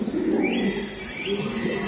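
Racing pigeons from a BRPOA club loft coo close by, two soft throaty rolling calls in quick succession against a quiet background.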